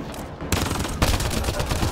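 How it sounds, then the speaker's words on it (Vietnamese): Dense gunfire in Mass Effect: Andromeda, a loud continuous burst of rapid shots breaking in suddenly after a brief lull and sustaining as a harsh, close volley. "cái cây này bắn một phát gục luôn"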